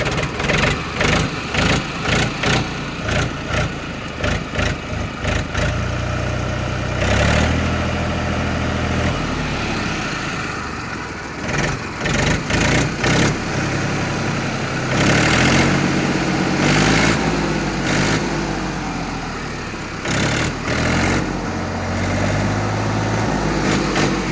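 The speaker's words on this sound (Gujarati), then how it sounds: "એન્જિન સ્ટાર્ટ કરી દીધેલ છે." A 2009 Mahindra 275 tractor engine idles steadily after being started, a continuous low mechanical rumble with a faint regular throb that holds at an even, close level throughout.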